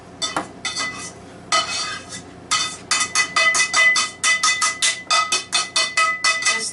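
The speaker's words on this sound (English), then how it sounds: "You get to make a lot of noise with the pan, that's fine." A pan clatters while taco meat is cooked, with a burst of metallic scraping and clinking, then a rapid run of sharp, evenly spaced clanks, loud and close, with no talk over it.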